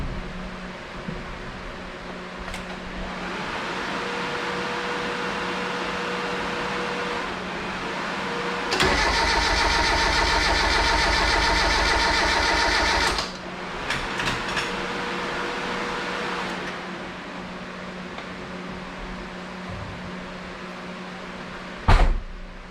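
A 1988 Mazda 323 fuel pump priming: a steady electric buzz cuts in for about four seconds and then stops abruptly, standing out over a constant low background hum.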